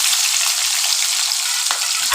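Pabda fish frying in a pan with burnt spices, a loud, steady hiss of hot oil crackling close by with no pauses and no voices.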